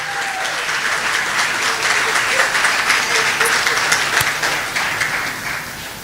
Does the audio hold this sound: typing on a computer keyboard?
no